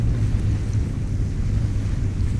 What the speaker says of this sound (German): Wackeln im Wind!